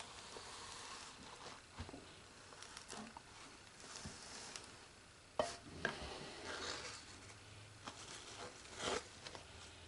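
A knife cuts through a loaf of cold process soap, giving faint, irregular scraping and tapping sounds with a few sharper clicks, close and quiet with no talk.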